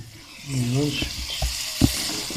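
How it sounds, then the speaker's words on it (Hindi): Grated carrots for gajar ka halwa being stirred and fried in a pan, a soft sizzle with scraping spoon strokes and a sharp clink near the end, while someone talks briefly over it. "इसको हिलाते रहेंगे ताकि गाजर भी थोड़ी मैश हो जाए"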